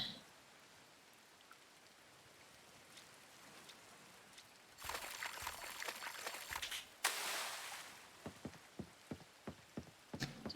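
Rain in the Coral Island video game, a steady soft patter that swells into a heavier downpour partway through, followed by a series of sharp regular taps near the end.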